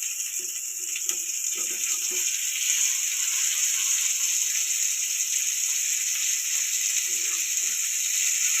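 Rani fish sizzling as it fries in oil, a steady broadband hiss that holds throughout, with a few faint low clinks and taps from the pan now and then.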